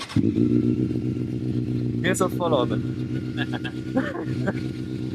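A Honda CBR 600 sport motorcycle engine fires up and settles into a loud, throbbing idle, with a couple of short revs as people talk nearby.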